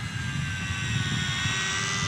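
Eachine Mini P-47 RC warbird, a small beginner model plane with gyro stabilization, flying with a steady electric motor whine and propeller drone, constant and moderately loud over outdoor wind noise.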